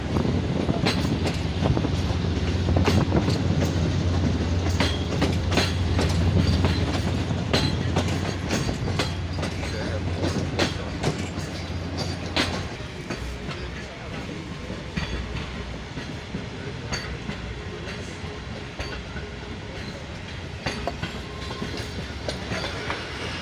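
A train runs on the Sibi to Quetta line in Balochistan, a loud, continuous rumble with rhythmic clickety-clack of wheels over rail joints and occasional sharp clanks, heard from onboard for an extended stretch.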